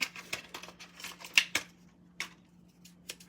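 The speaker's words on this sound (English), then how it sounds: "Fresh scissors." Scissors snipping deco mesh for a farmhouse-style wreath, a string of short crisp cuts and rustles over a low steady hum, close and fairly quiet, with scattered pauses between snips.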